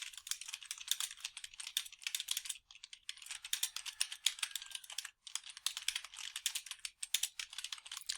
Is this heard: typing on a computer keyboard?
yes